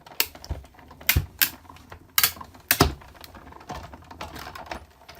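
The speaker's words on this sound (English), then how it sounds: "The clicking noise is normal," Sharp mechanical clicks from a hand-cranked die-cutting machine pressing a die into cardstock come in uneven bursts, close and fairly quiet between the louder snaps.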